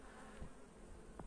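Honey bees flying near a hive entrance, bringing in pollen, produce a faint steady buzzing hum close by, with a couple of brief louder passes as individual bees fly past.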